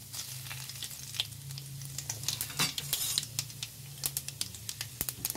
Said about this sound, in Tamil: பட்டை, கிராம்பு பெரிஞ்சிருக்கும், அது எல்லாத்தையும் எண்ணெயில் போட்டுடணும்